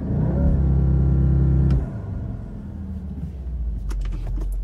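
An Audi SQ2 in dynamic mode with traction control off holds a loud, steady launch-control rev for about two seconds, then drops back to a quieter idling rumble.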